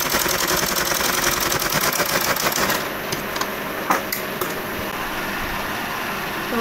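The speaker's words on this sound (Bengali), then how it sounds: "ডাবল সেলাই দিয়ে নিচ্ছি।" A sewing machine double stitching a scrap of fabric for a child's pant, running in a fast, steady mechanical rattle before stopping, followed by a few light clicks and handling noises.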